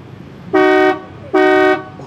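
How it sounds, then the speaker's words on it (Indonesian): Two loud, brassy honks from an old-fashioned car horn, each lasting under half a second, separated by a short pause. "Saya akan tunjukkan ke Anda bunyi klaksonnya."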